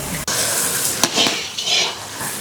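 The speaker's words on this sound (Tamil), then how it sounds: "ஃபர்ஸ்ட் எண்ணெய் ஊற்றிட்டு கராப்பல் தர போட்டு இஞ்சி பூண்டு பேஸ்ட்டு மிளகாத்தூள் போட்டு எண்ணெயில் நல்லா வறுத்துட்டு" Ginger garlic paste and chili powder fry in oil in a pan for mutton curry, with a low sizzle under close scraping and clinking from a spoon stirring against the metal pan.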